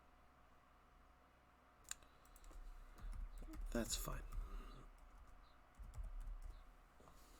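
Rapid clicking of computer keyboard keys during an online Yu-Gi-Oh! card game match, fairly close and uneven in rhythm, with someone talking over it.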